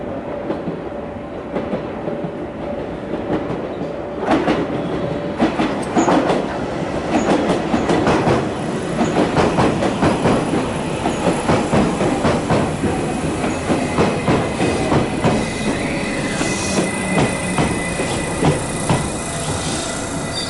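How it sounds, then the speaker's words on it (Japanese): The Ocean Arrow express train rolls in on the line toward Shirahama, Japan, its wheels clattering rhythmically over rail joints with occasional squeals, loud and close, sustained for about twenty seconds without talk. "向こうからオーシャンアローが来ました"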